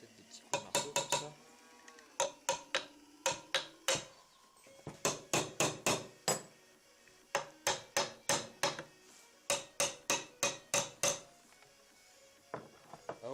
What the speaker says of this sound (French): Peut-être des petits coups de marteau comme ça.